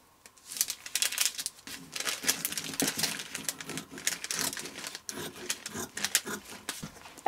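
Scissors cutting through off-white wedding dress fabric, a close series of crisp snipping and rustling crunches in irregular bursts, fairly quiet, with no talking.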